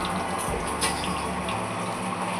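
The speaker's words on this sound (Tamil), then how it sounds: "எண்ணெய் ஊற்றிடுறேன்" Cooking oil pours in a steady, close, continuous stream into a pan before frying medu vada, with no talking.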